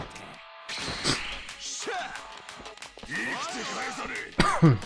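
A man clears his throat and coughs in a few short bursts at close range, with small knocks and shuffling sounds between them.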